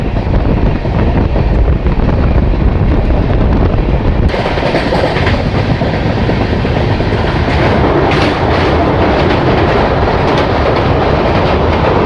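A Garib Rath train hauled by a diesel locomotive on a hilly route in heavy monsoon rain, rumbling loudly and continuously with rattling carriages and wind buffeting close to the microphone.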